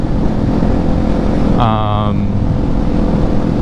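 A Kawasaki Ninja 400 sport bike engine gives a steady, loud low rumble throughout, with a brief tonal whine in the middle, while a person talks over it.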